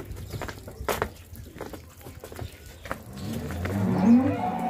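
A Holstein Friesian cow at a dairy farm gives a deep, drawn-out moo near the end, loud and close, following a stretch of scattered farmyard knocks and shuffling.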